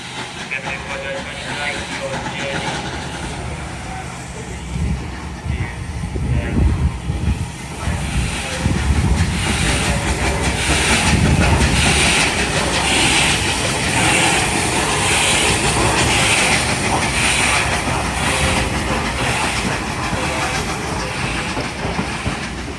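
Steam locomotive 34067 Tangmere moves through York station, with a loud, rumbling, rhythmic clatter of wheels that builds and holds steady, close by, and people talking in the background.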